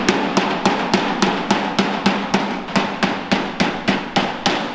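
A square-faced hammer strikes a door skin being fitted, making about twenty sharp, evenly spaced knocks at a quick steady rhythm, close and loud with a hollow bounce to each blow.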